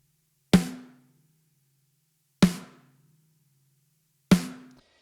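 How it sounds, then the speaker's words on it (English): Three isolated snare drum hits from a Logic Pro X drum kit sample, sharp and loud with a quick decaying ring, spaced about two seconds apart with silence between. "Snare sounds like this."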